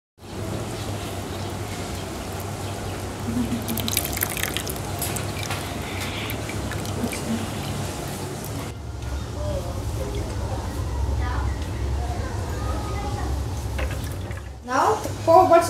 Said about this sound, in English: squeeze it until you get all of the coconut milk out